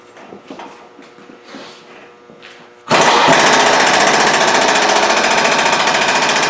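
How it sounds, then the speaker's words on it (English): Power tool running loud and steady as it tightens bolts on the front sway bar brackets of a 2016 Ford Mustang during a Steeda sway bar install, starting abruptly after quieter shop noise and holding a continuous rattling whine. "we're going to tighten these 4 bolts down"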